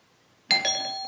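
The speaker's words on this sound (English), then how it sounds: "He just rang the doorbell again." A doorbell chimes once after a short silence, and its bright, sustained electronic tone rings on and slowly fades.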